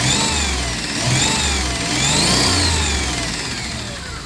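The engine of a 1997 Dodge Caravan LE with a faulty lifter runs close and steady, its hum rising and falling slightly as it revs, under a fast faint ticking, with no speech.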